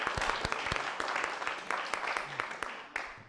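Round of applause at a town selectboard meeting, a modest room of people clapping steadily for a few seconds, with individual claps distinct and close, fading slightly toward the end.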